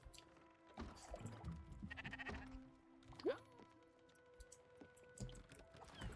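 Sheep bleating in the video game Spiritfarer, a few faint wavering bleats amid soft game ambience, clicks and a brief rising tone, with no talk.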